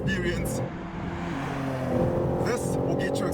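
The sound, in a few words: BMW M3 Touring inline-6 accelerating and shifting gear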